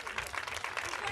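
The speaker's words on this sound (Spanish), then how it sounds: "darle ese fuerte aplauso a estos rapaces y rapazas" Applause for a fourth-place youth team at the Copa 5x5 tournament in Santiago de Compostela: dense, steady clapping from a crowd, a little distant and moderately loud, filling the whole short moment.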